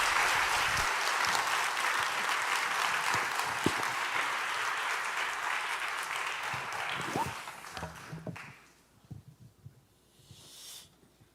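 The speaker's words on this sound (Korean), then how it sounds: "우리 큰 박수로 환영하겠습니다." A church congregation at a Pentecost revival service applauds in welcome for a visiting elder pastor, dense sustained clapping filling the hall for about eight seconds before trailing off into scattered claps and quiet.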